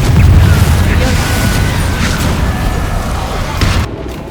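Fiery Confringo blast spells explode in the Hogwarts Legacy video game as a dense, continuous rumbling boom. The deep roar fills the whole stretch, with crackling bursts layered on top, before it eases slightly near the end.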